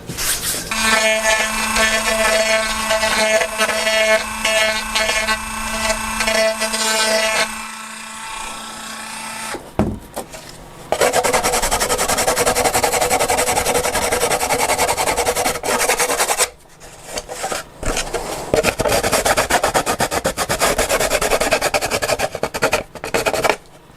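A power grinder shapes a wing part on a Tiger Moth biplane being converted into a Stampe SV4, a loud, harsh whine and rasp coming in long bursts separated by short pauses.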